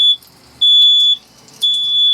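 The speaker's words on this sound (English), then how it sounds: "The trickiest part of cooking inside an RV is the smoke alarm" RV smoke alarm set off by steak searing in a hot pan, three loud piercing electronic beeps in a regular on-off rhythm with short gaps, close and alone.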